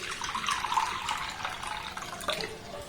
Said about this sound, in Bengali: এবার দেখুন একটা পাত্র এখানে নিয়েছি, এর মধ্যে দিয়ে দেবো কিছুটা পরিমাণে নরমাল জল।